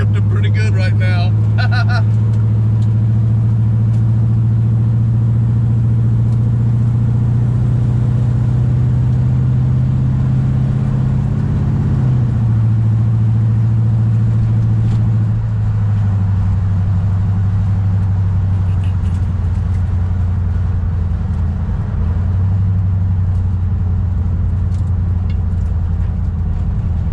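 A 1968 Dodge Charger driven hard, its loud engine droning steadily up close with pitch dips as it shifts gears, while a person talks over it.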